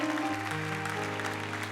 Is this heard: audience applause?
yes